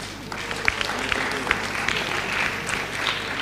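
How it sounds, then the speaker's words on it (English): Audience applause for the panelists at the close of an arts and literature forum on national identity: a steady, moderately faint wash of many hands clapping in a hall, with a few sharper claps standing out. "So thank you, round of applause for panelists,"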